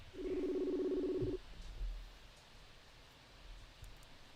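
A phone's steady electronic ringing tone plays for about a second and a half, loud and close, then stops, leaving a quiet room.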